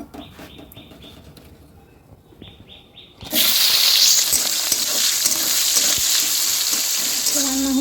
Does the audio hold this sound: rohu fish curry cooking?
yes